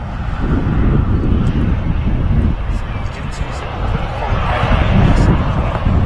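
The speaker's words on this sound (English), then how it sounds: "Jet 2 taxiing onto active right in front of us here by the looks." A Jet2 Boeing 737 taxis onto the active runway at Manchester Airport, its engines a steady, broad roar that holds throughout, with wind buffeting the microphone.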